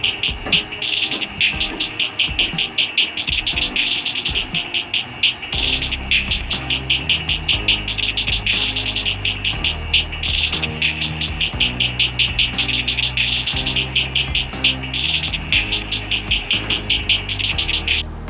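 Music with a steady beat and bright, slightly crisp percussion plays continuously through Noise Buds Mini wireless earbuds, a full mix with bass and rhythmic hits, no talking over it.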